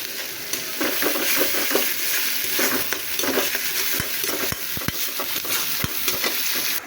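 Chopped onions with a pinch of salt frying in a pan, a steady close sizzle with scattered crackles and pops over the full seven seconds, no voices.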